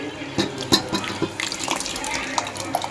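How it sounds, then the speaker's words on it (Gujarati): Boiled vegetables go into a simmering pav bhaji pot with wet plops, splashes and a few sharp knocks, while a person talks over it. "આપણે જે શાકભાજી બાફીને રાખ્યા છે એ આપણે આમાં એડ કરી દેવાના છે"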